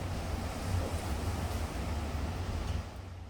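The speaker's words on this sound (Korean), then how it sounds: "바람 소리 봐." A strong gale blows hard and steadily, a loud, continuous broadband roar with a deep low rumble of wind buffeting the microphone, and no voices.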